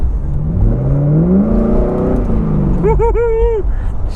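A car picks up speed on a test drive, its engine revving in a rising, loud, close drone through several gear pulls, and an excited voice cuts in near the end.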